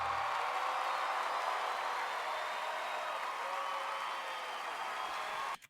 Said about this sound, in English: So they all four stood up and are applauding, giving him her credits due.